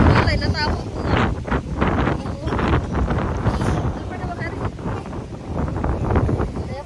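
Strong wind gusting across a hotel pool area, buffeting the microphone loudly and steadily throughout while people talk over it.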